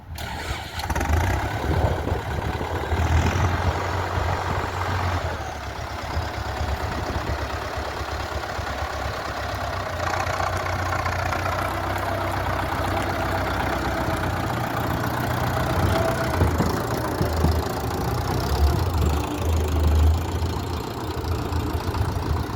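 A tractor engine runs steadily while working a field with a Kverneland cultivator, producing a continuous, fairly loud mechanical drone with a low rumble throughout and no talking.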